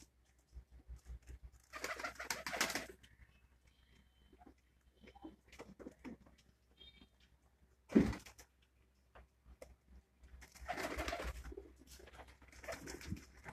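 High flyer pigeons coo in a loft, with soft repeated low calls and a few louder fluttering bursts that may be wingbeats, spread across the moment with no one talking.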